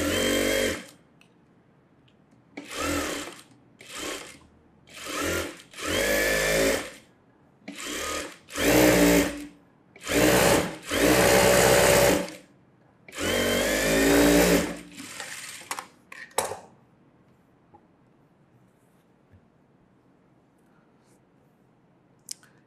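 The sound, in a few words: sewing machine stitching a blouse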